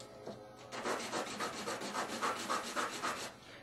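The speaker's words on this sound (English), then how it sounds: "This real coarse sandpaper makes the job quite easy." Coarse sandpaper rubs back and forth against a wooden fishing float, a steady run of about a dozen rasping strokes after a brief start, close and fairly loud with no talking.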